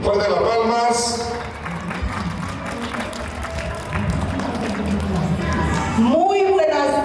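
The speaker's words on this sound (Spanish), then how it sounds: "Fuerte el aplauso entonces a la mamita Adela Galarza de Ruti" Wedding guests applaud in a crowded room: steady clapping and crowd noise sit beneath loud amplified talk throughout.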